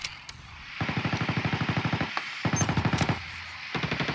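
Automatic gunfire in a first-person shooter video game, two sustained rapid bursts of machine-gun fire with a few isolated shots, fairly close and loud.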